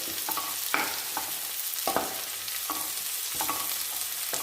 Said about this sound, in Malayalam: ഇനി ഇതെല്ലാം കൂടി നന്നായിട്ടൊന്ന് വഴറ്റിയെടുക്കുക